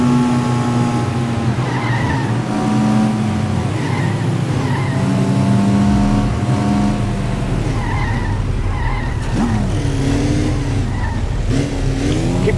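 A car in the Alarm for Cobra 11: Nitro PC racing game drives hard with a humming, shifting engine and repeated loud tire squeals and skids throughout, close and continuous.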